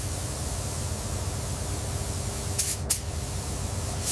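Spray gun laying clear coat on a champagne gold 1998 Toyota Supra A80 panel, a steady close hiss of atomized spray holding even throughout, broken by a couple of brief brighter bursts near the end.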